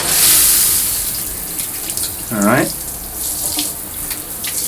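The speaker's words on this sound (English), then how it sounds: "So let's get some water and rinse that off." Tap water running into a sink to rinse a dirty Amazer scrub brush, a steady close splashing stream with a brief wobbling surge midway, and a short spoken word at the start.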